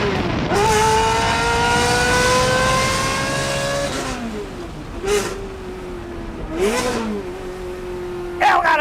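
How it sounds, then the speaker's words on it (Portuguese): A Ferrari 360 Modena with F1 gearbox roars through a tunnel, engine revving up hard with rising pitch, dropping through gear changes, then blipping again, loud and echoing with no speech. "Não existe outra Modena com esse ronco F1 no Brasil"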